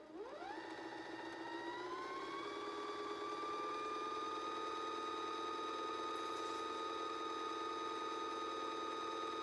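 A sewing machine winds a bobbin with thread: a steady mechanical whir rises quickly in pitch as the motor speeds up, then holds a constant high hum throughout, close and continuous with no talking.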